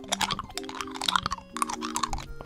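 An animal chews on a ball, giving close, irregular crunching and squeaky gnawing bursts with short pauses between bites.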